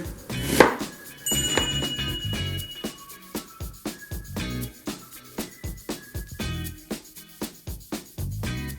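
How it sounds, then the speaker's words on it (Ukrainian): A knife chops a large onion into small cubes on a cutting board, regular sharp taps in a quick even rhythm, close and clear, with a brief clink at the start. "Одну велику цибулину подрібнюємо на маленькі кубики."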